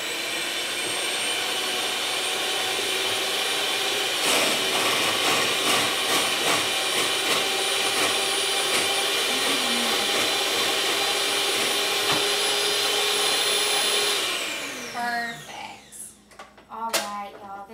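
An electric mixer whips cupcake filling in a home kitchen, a steady loud whirring drone running continuously before winding down and stopping near the end, followed by a few clunks.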